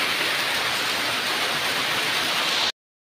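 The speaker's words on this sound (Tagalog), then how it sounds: "Ang lakas ng ulan." Heavy rain pours down steadily in a tropical storm with local flooding, a dense, loud, continuous hiss that fills the whole clip and then cuts off abruptly.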